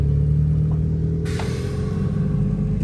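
A car's engine revs at an import car show and meet in Portland, a loud low rumble that swells sharply partway through and holds steady to the end.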